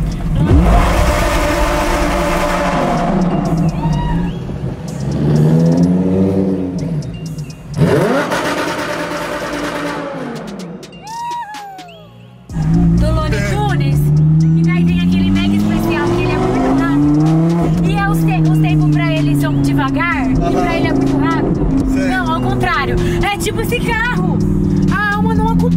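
A Lamborghini sports car accelerates and revs hard in loud, rising engine sweeps, with a brief drop before another long surge as people talk excitedly over it.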